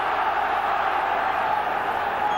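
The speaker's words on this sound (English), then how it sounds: "Crowd roaring Liverpool to make extra time unnecessary" A football stadium crowd at a 1991-92 UEFA Cup second-round match between Liverpool and Auxerre roars continuously, a loud, dense and steady wash of noise with no breaks.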